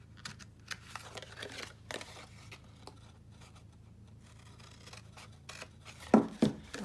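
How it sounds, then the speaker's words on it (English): Scissors snip through the flaps of a paper craft box made from card stock, with soft rubbing and handling noises throughout and two louder, crisper cuts close by near the end. "So now we're just going to cut up these ones here"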